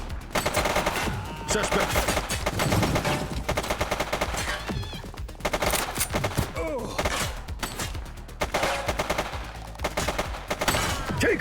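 Rapid gunfire from automatic weapons and single shots in a police shootout in the video game The Precinct, loud and continuous bursts throughout with brief shouted voices mixed in.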